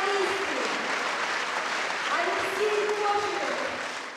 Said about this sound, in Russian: Благодарные слушатели дарят в ответ свои аплодисменты и цветы.